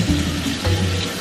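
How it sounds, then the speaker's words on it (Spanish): Tap water runs steadily into a basin as a baby's bath is filled to a lukewarm temperature, a close continuous gushing stream with small surges in flow. "Ahora lo que sigue es poner el agua para Priscila, para ver que esté buena, ni caliente, ni fría, que esté tibia"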